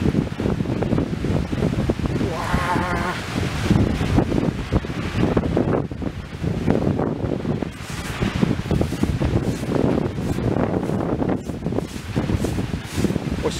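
Strong, gusting wind roars steadily through a forest during a thunderstorm with heavy rain, buffeting the microphone with a dense, continuous rumble and rustle; no distinct thunder claps stand out.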